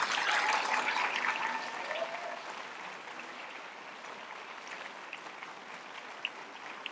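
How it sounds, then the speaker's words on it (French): Audience applause at the final of a high school students' eloquence contest: a loud burst of dense clapping that gradually thins and fades to a softer patter. "un tonnerre d'applaudissements pour Marianne Doury"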